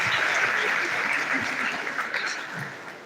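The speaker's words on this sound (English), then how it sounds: "a round of applause for her" Audience applause for a woman mentor at a governance and public leadership event in Nigeria, steady clapping filling the room throughout and fading slightly toward the end.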